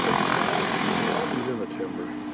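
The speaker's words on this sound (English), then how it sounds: "the helicopter was about to depart for supplies" A helicopter about to depart for supplies at a remote moose hunting camp, its engine and rotor droning steadily and loud throughout, with talk partly over it.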